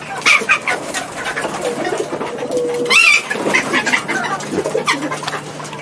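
Collared dove cooing close by, several rhythmic coos with other faint bird calls and clucks in the background, no talking.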